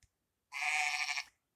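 A ZTE Majesty smartphone ringtone of a bleating sheep, one sustained wavering bleat lasting under a second, clear and alone in quiet.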